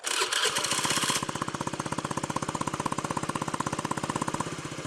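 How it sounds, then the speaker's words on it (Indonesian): A modified Honda Beat FI scooter with a Sukigi RC3 exhaust and rainbow tip idles with a loud, rapid, steady pulsing exhaust chug, a harsher burst at the very start, heard up close with no talking. "saya bakalan nyoba tes sound knalpot Sukigi RC3 ini dengan menggunakan corong rainbow"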